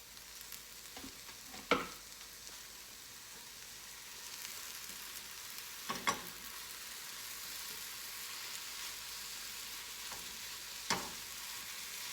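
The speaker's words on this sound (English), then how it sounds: "I'm just heating the tomatoes with the eggs." Tomatoes and scrambled eggs sizzle in a hot pan for a queso egg scramble, a soft steady frying hiss with a few brief clinks of a utensil against the pan.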